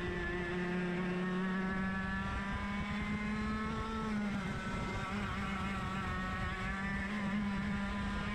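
Several 100cc racing kart engines scream together during a race, a steady high whining drone with shifting harmonics, close and loud throughout with no talk.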